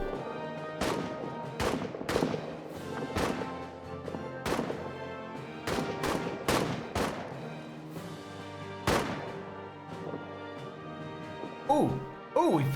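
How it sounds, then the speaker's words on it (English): Rifle shots ring out in a WWI trench video game, a scattered series of sharp, booming cracks spaced unevenly, some near and loud, with voices talking between and over them. "You two just keep firing, gain some experience."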